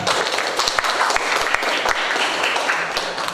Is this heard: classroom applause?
yes